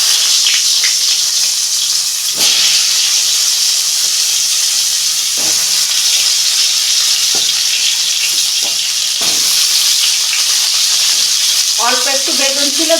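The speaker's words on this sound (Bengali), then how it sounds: "ওই তেলে পটলগুলো ভেজে নেব।" Pointed gourd (potol) fries in oil left over from frying an egg, making a steady, close sizzle broken by sharp clacks from a utensil, with a short spoken voice near the end.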